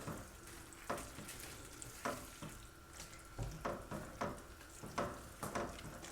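Zucchini noodles for taco zoodles are heated and stirred in a sizzling pan, with soft frying hiss broken by regular utensil scrapes and clacks roughly every second, close and quiet, without talking.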